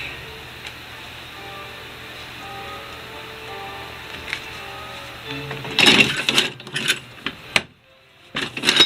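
A Kelsey 5x8 tabletop platen press printing heavy-stock coasters with deep impression runs with a low mechanical rumble, then a burst of sharp clanks and clacks as the platen opens and closes, up close and without talk.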